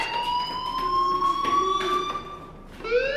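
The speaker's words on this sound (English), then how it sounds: "do you hear that fire alarm? That means you should be outside." A fire alarm rings in the video game Life Is Strange: a steady, shrill electronic tone holds for nearly three seconds, then breaks and restarts near the end. It is moderately loud, with no talk over it.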